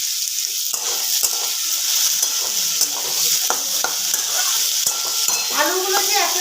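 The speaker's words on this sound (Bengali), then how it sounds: "আলুগুলো ভাজা হয়ে গেছে। এখানে আমি দিয়ে দিলাম 2টো চেরা কাঁচা লঙ্কা, আর দিয়ে দিলাম অর্ধেকটা কাটা টমেটো।" Slit green chillies and half a chopped tomato land in a pan of fried potatoes, bringing steady loud sizzling and frying with scraping stirring sounds throughout, and no talking.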